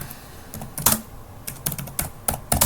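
Keyboard keys clatter in irregular bursts of quick taps while someone types code on a computer, with short pauses between flurries and no talking.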